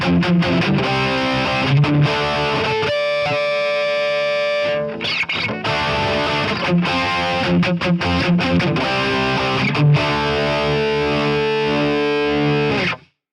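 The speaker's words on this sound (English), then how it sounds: "now we could just try a different overdrive if we would like" An electric guitar runs through an overdrive pedal in Amplitube 5 amp software. It gives a loud, thick, continuously distorted tone with a short break in the middle, and no talking.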